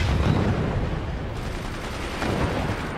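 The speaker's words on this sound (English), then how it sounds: "We distracted him with the mortars." Mortars firing in the Forts strategy game: a quick series of close, booming shots and thuds over dense battle noise, loud and rapid across a few seconds.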